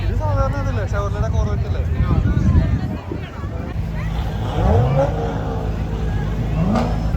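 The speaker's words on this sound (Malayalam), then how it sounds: "ഇടയ്ക്കിടയ്ക്ക് ഇവന്മാർ വണ്ടി റേസ് ചെയ്യുന്നുണ്ട് എഞ്ചിൻ്റെ സൗണ്ട് കേൾക്കാൻ രസമുള്ളവർക്ക് നല്ല രസമായിരിക്കും" Car engines revving and accelerating past during an Independence Day parade in Dunwoody, Georgia, rising engine sweeps heard under continuous talking and crowd noise.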